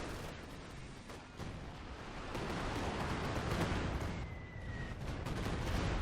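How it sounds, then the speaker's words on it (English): Artillery explosions in Company of Heroes 2 rumble and crash continuously, a dense, loud wall of overlapping booms and blasts from the battlefield with no talking. "big explosions everywhere"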